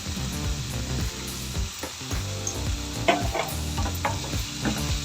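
Onions and tomatoes fry with salt in a pan for capsicum masala curry, giving a steady close sizzle broken by scraping stirs.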